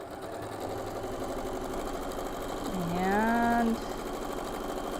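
A sewing machine joins quilt block pieces with a continuous, even mechanical hum and rapid stitching, heard up close. A voice briefly speaks over it partway through.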